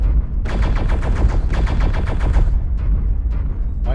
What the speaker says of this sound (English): Why this guy likes to fire at my feet.